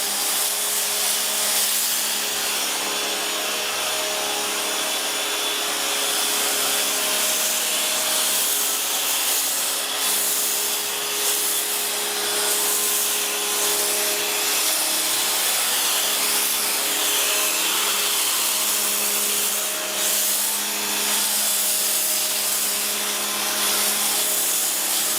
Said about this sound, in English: I make sure to foam down my rims too so we get a nice deep clean there.